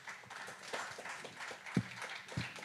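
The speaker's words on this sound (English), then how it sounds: "please give a big applause to everyone" Audience applause for the panelists at a smart grid summit, a steady dense patter of many hands clapping with a few louder claps standing out near the end.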